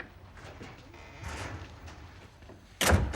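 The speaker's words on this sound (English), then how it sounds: "Shut the door, Danny." An office door is pushed shut, with faint rustling and movement leading up to a sharp, loud close near the end.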